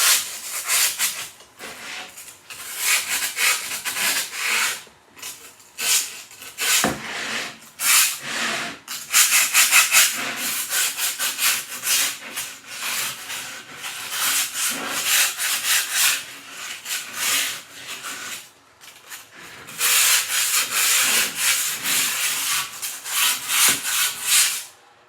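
Skateboard grip tape rubbed hard against a wooden board gives a rough, scratchy hiss in repeated back-and-forth strokes with brief pauses, close and continuous throughout with no talk.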